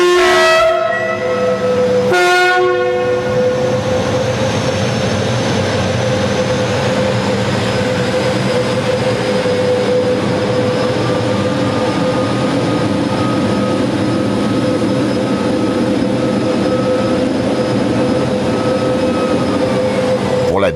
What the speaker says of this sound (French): Pour la dernière fois donc, le turbotrain s'en retourne vers le dépôt de Vénissieux